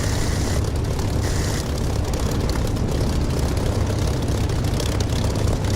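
A Spitfire's piston engine runs before takeoff in the DCS flight simulator, a loud, steady low propeller drone that holds constant throughout, with no talking.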